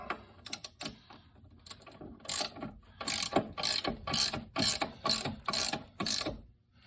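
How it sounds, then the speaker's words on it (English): A socket wrench ratchets while tightening a shock absorber bolt on a C6 Corvette: a close, crisp series of ratcheting click bursts in a steady rhythm, with no talking. "I'm going to use a wrench and a socket, and I'm just going to tighten it."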